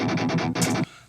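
Distorted punk-rock guitar chugs, a fast run of four or five loud, tight palm-muted strikes followed by a brighter accented hit, then a short ringing tail fading out.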